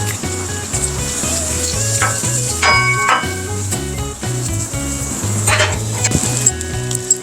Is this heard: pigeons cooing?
no